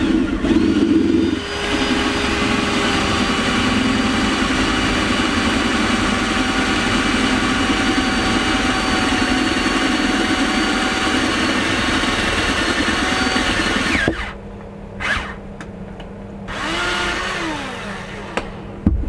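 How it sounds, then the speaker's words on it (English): A steady, loud whirring electric drill runs continuously through metal for about fourteen seconds, then cuts off, leaving brief softer clicks and handling sounds. "I'm going to drill them out, and then they'll fit there."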